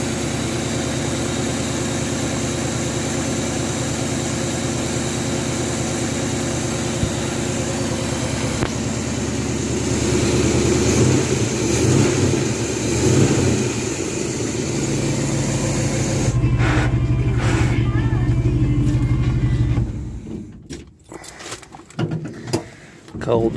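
Geo Metro convertible engine idling steadily nearby after an oil change, a constant low hum that rises briefly in the middle before stopping near the end, followed by clunks and handling noises, with talking over it.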